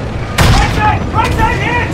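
Tank cannon firing in the Call of Duty WWII video game, two loud booming blasts about three-quarters of a second apart, with voices shouting over the battle.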